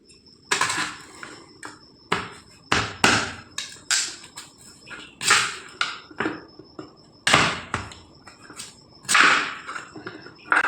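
Raw mango being cut with a knife on a board for mango pickle: a loud, close series of sharp chopping knocks at an uneven rhythm, with brief gaps and no voices.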